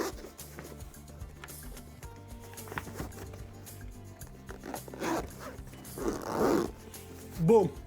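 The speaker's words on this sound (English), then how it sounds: "zip it up" A soft zipper pull closes a DJI Pocket 3 carrying case, rising in a few scratchy bursts toward the end over a quiet, busy background with someone talking nearby.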